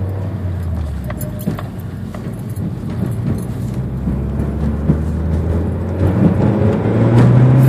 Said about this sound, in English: give you a little bit of an example of acceleration.